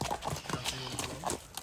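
A six-year-old racing horse clip-clops with quick, steady hoofbeats at a moderate distance, joined by a brief whinny and faint murmuring voices.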